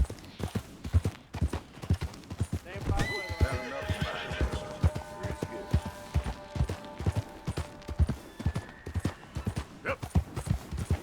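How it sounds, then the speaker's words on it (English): In the video game Red Dead Redemption 2, a horse whinnies while its hooves clip-clop in a steady, even rhythm throughout. The hoofbeats stay close and clear. "Fine-looking nag there"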